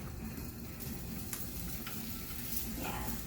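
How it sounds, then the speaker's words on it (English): Steady hiss of a drop of water sizzling in a hot pan, constant and fairly quiet, with faint clinks. "put a drop of water in it, and then you hear it sizzle"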